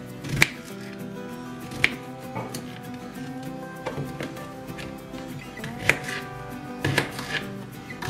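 A knife slicing through an unpeeled potato lengthwise into large cubes on a cutting board, sharp separate chops landing at irregular intervals with quiet pauses between them.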